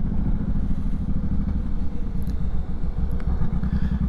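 A motorcycle engine idles close by with a steady, low throbbing rumble and a fast pulsing beat, loud and continuous.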